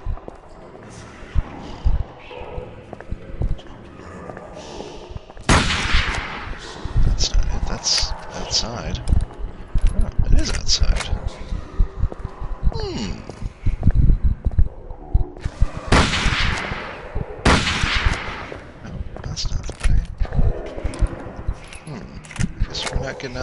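Gunshots ring out in the Call of Cthulhu video game, several sharp, loud bursts coming in separate clusters over steady game ambience, with someone talking at intervals in between.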